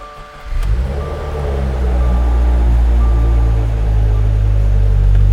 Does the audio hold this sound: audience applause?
no